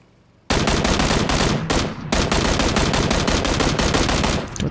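Sustained automatic gunfire in the video game PUBG bursts in suddenly after a quiet start, loud and rapid, with a brief pause near the middle before the burst resumes and runs to the end.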